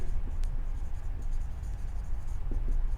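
Chalk or marker scratching steadily across a board during a math lecture on cyclic permutations, a continuous faint scraping texture with a few sharper taps, heard alone without speech.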